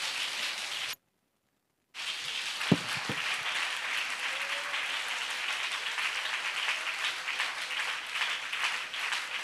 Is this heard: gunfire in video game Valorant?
no